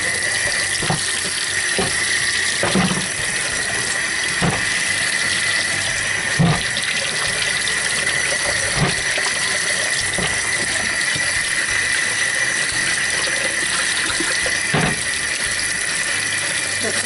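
Running tap water rinses a rusty cast iron pan in a sink, a steady, loud, continuous splash that fills the whole stretch, with occasional clunks of the pan being moved under the stream.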